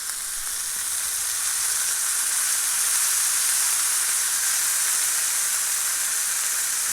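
A burger pan-searing on a hot pan gives a loud, continuous sizzle and hiss that builds slightly and holds steady throughout, with no talking.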